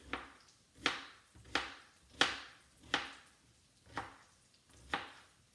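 Turnips being chopped into little cubes on a board, about seven distinct knife strikes at a slow, fairly even rhythm, close and crisp with quiet gaps between.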